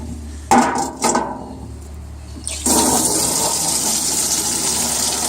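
Rainwater gushes from a watering can in a steady, full stream after a couple of brief knocks, pouring continuously at close range onto a potted ornamental ginger plant.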